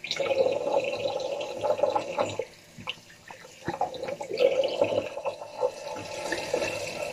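Water runs and splashes over a sink as a face is rinsed after a wet shave with Proraso White soap and a Feather razor, a steady close trickle with brief drips and pauses, no talking.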